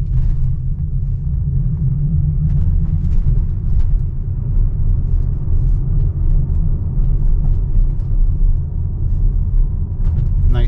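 A Tesla with FSD Beta rolls over speed bumps at roughly 20 to 23 km/h, giving a steady low road rumble with soft thumps throughout the cabin and no talking.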